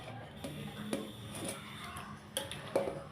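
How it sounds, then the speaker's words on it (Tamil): A ladle knocking against a cooking pot to shake loose sticky cooked food, several sharp metallic taps spaced irregularly over a quiet kitchen background, close but soft. "இது கரண்டியில் ஒட்டிக்குது, எனக்கு தட்டவே முடியல"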